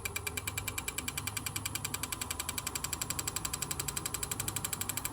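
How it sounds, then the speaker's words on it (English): A wood lathe turning green end grain runs with a fast, regular mechanical knocking pulse and a steady hum, close and moderately loud, holding a constant rhythm throughout. "And the lathe starts shaking a little bit at 650."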